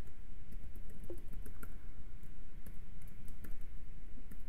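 Computer keyboard typing while entering mod code for a Minecraft Forge 1.6.2 project, a steady stream of light, close clicks and key taps with no talk.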